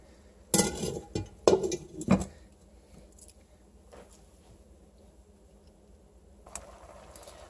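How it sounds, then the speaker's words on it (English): A lid going onto a cooking pot in a home kitchen, a few sharp clinking, clattering knocks of metal and glass close by, then quiet with a faint clink later. "I'm going to cover this baby up and let it cook"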